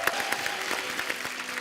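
A studio audience at a TV comedy show gives an enthusiastic welcome to Gladson Peter, a brief burst of rhythmic, closely spaced applause over a sustained musical tone.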